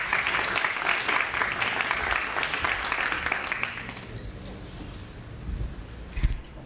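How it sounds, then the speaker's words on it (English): A room of conference attendees claps in a round of applause for a speaker, dense at first and fading out after about four seconds, followed by quiet room noise and a soft bump. "Let's give her a round of applause"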